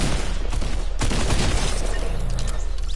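Fortnite gunfire crackles in quick bursts during the Travis Scott event. One strong shot stands out near the start, within a loud, steady wash of game noise and rumble.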